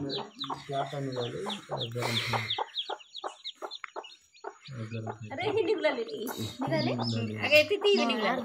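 A hen clucks repeatedly, close by, with soft chick peeps and other clucks mixed in; a voice talks over parts of it.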